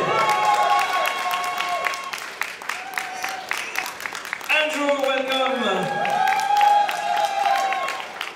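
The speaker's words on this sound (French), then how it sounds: "Je vous demanderai d'applaudir." An audience at the Paris Manga & Sci-Fi Show applauds and cheers as a Power Rangers actor is welcomed on stage, with a dense, continuous patter of clapping from a large crowd under an amplified announcer's voice.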